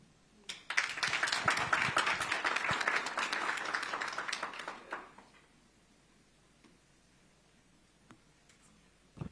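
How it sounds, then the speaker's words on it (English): A round of applause for a candidate at a media engagement, dense clapping for about five seconds that tapers off, leaving a quiet room with a few scattered claps and small clicks. "A round of applause, please"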